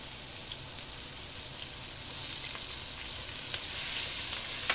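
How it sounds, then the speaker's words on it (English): Ginger, garlic and green chilies added to hot oil with cumin seeds in a pot sizzle steadily for a Bengali fish curry, the frying hiss growing louder partway through, with faint pops and no talking. "Then add the ginger and garlic onto the pot, followed by the green chilies."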